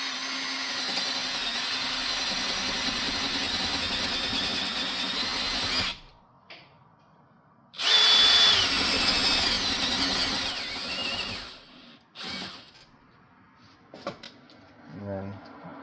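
A power drill spins a cutting bit into material, a loud continuous whirring grind that cuts off, then resumes in a second burst before breaking into brief intermittent bits.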